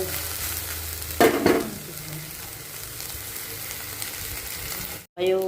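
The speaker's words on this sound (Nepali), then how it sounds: "यसलाई चाहिँ मजाले चाहिँ भुट्नु पऱ्यो।" Vegetables frying in oil in a pan while being stirred, with spices added: a steady close sizzle, a loud burst of scraping stirs early on, then a brief cut and a renewed sizzle at the end.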